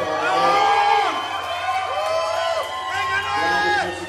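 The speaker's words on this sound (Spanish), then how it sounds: "Un aplauso para Noé." Concert crowd at a rock anniversary show at Foro San Rafael cheering and whooping for a band member, a loud sustained roar with rising shouts throughout.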